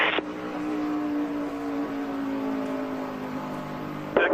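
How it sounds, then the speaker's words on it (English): NASCAR race cars roar around the track at the Daytona 500, a sustained loud engine drone that holds steady with a slight pitch shift and is heard alone without voices. "Got a couple cars coming with a run on the far outside up here."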